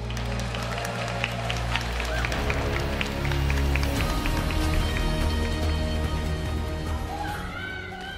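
Applause and cheering from a large crowd at a League of Legends esports match swell up over loud music with a blaring tone, continuing steadily throughout.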